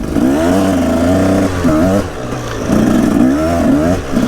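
A motorcycle rides through a forest, its engine loud and close, droning steadily with revs rising and dipping throughout.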